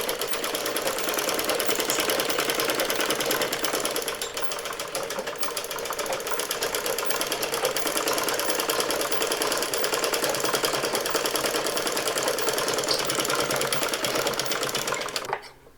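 A sewing machine stitches a saree blouse with a fast, continuous mechanical chatter, close and loud, running steadily for nearly the whole stretch before stopping abruptly at the end.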